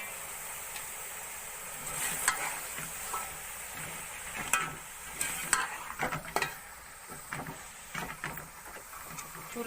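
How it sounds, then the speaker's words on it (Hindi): Finely chopped spinach frying with spices in a pan over high heat, with a steady low sizzle broken by irregular scraping and clattering stirs of a spoon, close and fairly quiet, no talking. "पालक को थोड़ी देर भून लेंगे"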